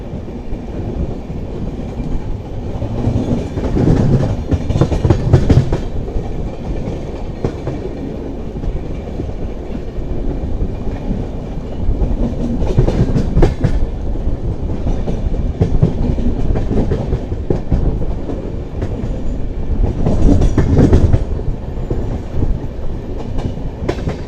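The Superfast Mail train runs at high speed through KR Puram without stopping, heard from on board as a loud, continuous rumble with rhythmic clickety-clack of the wheels on the rails and surges of rattling.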